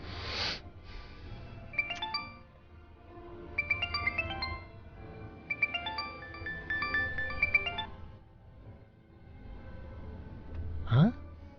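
A phone ringtone repeats in short melodic bursts over a low background hum, the call going unanswered, with a brief rising chirp at the end.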